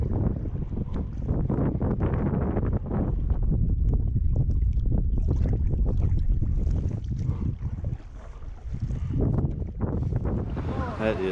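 Strong wind buffets the microphone on a narrow lake stretch near the Canadian shore in the Boundary Waters, with a canoe on the water; loud continuous rumbling gusts fill the scene.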